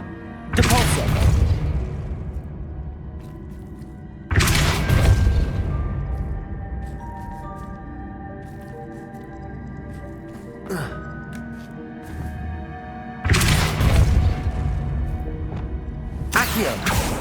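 A Depulso force spell cast in Hogwarts Legacy lands as three loud, sharp whooshing bursts with deep booming impacts, spaced a few seconds apart, over a quiet game background and without talk.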